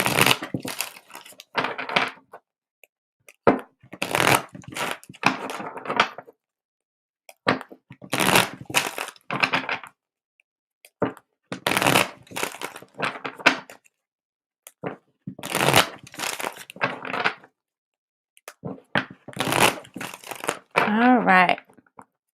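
Playing cards shuffled in several short crisp bursts separated by pauses, close and fairly quiet, with a brief bit of speech near the end.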